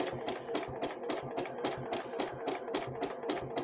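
A Juki sewing machine with a purple-tip needle stitching a jelly roll rug, a quick, even mechanical chatter of repeated stitches that is fairly faint and steady throughout.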